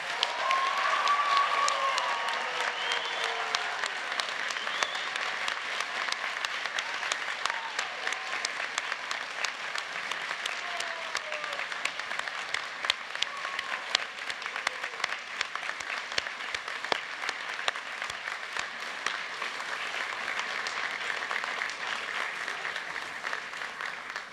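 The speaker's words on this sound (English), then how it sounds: "join me in an enthusiastic and thunderous round of applause for our new graduates" An audience at a university engineering and IT graduation ceremony gives sustained, even applause, a dense wash of clapping that carries on steadily from start to finish.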